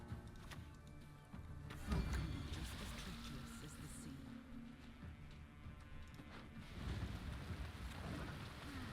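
Steady rain effect in the card game Gwent, a dense broadband hiss of falling water with low rumbling swells throughout, continuous and fairly loud, with no clear speech over it.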